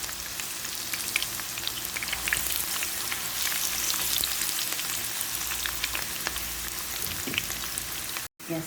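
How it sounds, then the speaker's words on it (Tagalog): Chopped garlic sautés in canola oil in a hot pan over high flame. A steady, dense crackling sizzle runs throughout with small pops, then cuts out briefly near the end. "saute garlic on a high flame for about 5"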